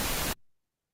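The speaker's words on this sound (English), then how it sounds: "Right, so this is a pink noise." Pink noise as a synthetic test signal, a loud steady hiss that cuts off abruptly after a third of a second, leaving a brief low tail and then silence.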